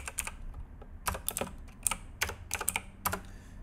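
Code is typed on a computer keyboard in quick bursts of crisp, close key clicks separated by short pauses, with no talking.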